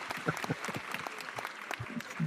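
A podcast studio group gives a brief, light golf clap, a few scattered soft claps in close succession with some voices mixed in.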